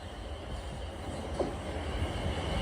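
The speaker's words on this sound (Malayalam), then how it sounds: "Waiting for the train now." A train at Wool railway station in England, on the line to Weymouth, gives a steady low rumble that runs through the whole stretch with no talk.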